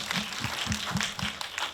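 A small audience at a film festival talk session claps in a brief, fairly sparse burst of applause with distinct individual claps, moderately loud.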